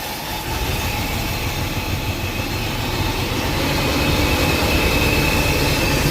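The engine of a 1976 Mercedes 450 SL runs steadily at idle after a long time unused, a loud close rumble that is continuous and rises slightly toward the end, with no talking.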